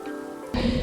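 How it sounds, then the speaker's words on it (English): Steady rain in the survival game Stranded Deep, a continuous hissing wash that swells louder partway through the brief moment, with no voices. "Is that a storm or is that just rain?"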